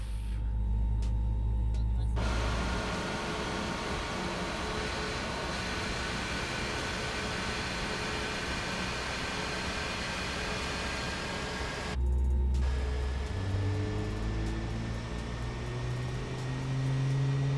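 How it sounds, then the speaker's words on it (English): Airbus A320 engine spooling up during start in Microsoft Flight Simulator, a steady loud broadband roar with rising whine tones building after a brief lull, continuous throughout. "Let's go for a start on engine number 1."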